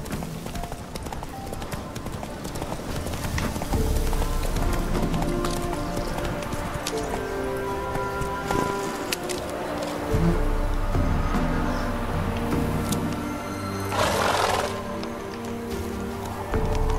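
The horse Roach gallops in The Witcher 3, rhythmic hoofbeats pounding steadily over a musical score, with a brief whinny near the end.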